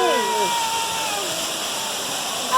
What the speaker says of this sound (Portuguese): Aí está a nossa cachoeira linda!